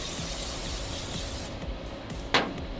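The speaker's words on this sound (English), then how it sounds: "let us give it a spray." A short hiss of cooking oil spray misted over stuffed garlic bombs sitting in an air fryer basket, a steady broadband rush that cuts off near the end with one brief sharper burst.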